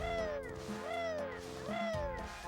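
A cat meows in Banjo-Tooie, three rising-and-falling meows in a steady rhythm, fairly faint under an ongoing musical background.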